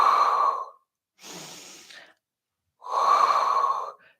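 Three breaths during a pilates workout, two long, forceful breathy exhales with a softer, shorter breath between them, close and separated by brief silences.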